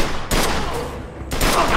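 Gunfire from the video game Mafia II sounds as two loud, close bursts of rapid shots separated by about a second, over game background noise.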